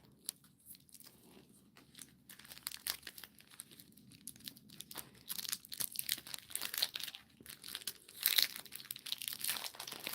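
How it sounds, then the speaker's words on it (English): Plastic wrappers rustle and crinkle close by while chocolate is sought, with soft scattered crackles that build into denser, louder crumpling and tearing bursts toward the end, and no talk. "Sorry for the rustling."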